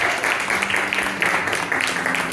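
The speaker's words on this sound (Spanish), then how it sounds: "Denle un aplauso a Calvino." Brief burst of applause for Calvino, loud and close, with dense clapping and a faint low hum underneath, lasting only a couple of seconds.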